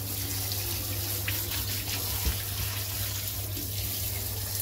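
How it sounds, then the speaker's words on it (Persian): Cold tap water runs steadily over blanched mushrooms in a kitchen sink to stop their cooking, a close, continuous rushing splash with no break and no voices. "باز قارچامو آب میگیرم، قشنگ همشون خنک بشن دیگه"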